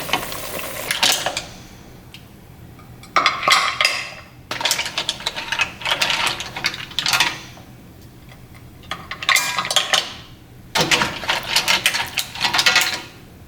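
Cooked mussels plated in a home test kitchen, with bursts of clattering shells, dishes and cutlery against crockery, coming in several busy spells separated by short quiet gaps, close and fairly loud with no talk.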